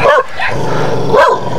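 A fierce dog barks twice, about a second apart, each sharp, loud bark close by, with a low steady background hum between them and no voices.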